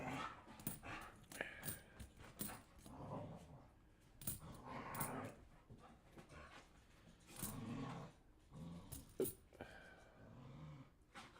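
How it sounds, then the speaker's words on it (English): Several dogs play together nearby, giving repeated barks, whimpers and panting in irregular bursts of scuffling activity throughout. "all you're gonna hear here is the dogs playing around."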